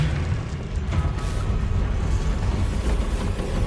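A Confringo blasting spell goes off in Hogwarts Legacy as a loud, rumbling explosion that holds for several seconds with dense low booming and no talk.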